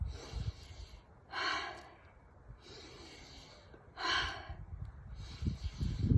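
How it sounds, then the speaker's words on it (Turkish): Slow, deep breaths are drawn in and pushed out during a guided breathing exercise, with two long forceful inhales and exhales alternating with quieter breathing, close to the microphone. "Evet hemen derin derin nefeslerimize başlıyoruz."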